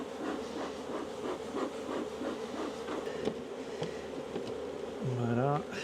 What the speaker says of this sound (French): Ça fait beaucoup d'abeilles.